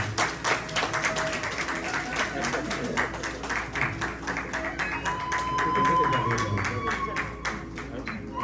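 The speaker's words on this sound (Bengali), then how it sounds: "সবাই করতালি দেবেন।" An audience claps at the opening of a Lalon song evening. The clapping is dense and fairly even, with a voice speaking over it.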